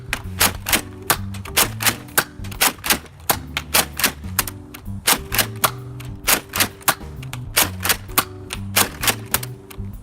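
A Nerf Rampage blaster fires foam darts in quick succession outdoors, producing a rapid series of close, sharp mechanical clacks and thumps in bursts with brief pauses.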